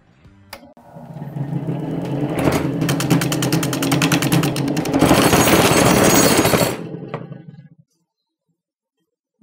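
A wood lathe spins up a large, roughly 2 kg ball made of colored pencils, giving a loud, sustained rattling, juddering whir with rapid rhythmic pulses that intensify midway, then cut off and wind down to silence.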